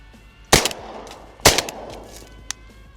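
Two loud shotgun blasts about a second apart, then a fainter third pop, fired during flooded-corn prairie pothole duck hunting for gadwall, outdoors with quiet between shots and no talk.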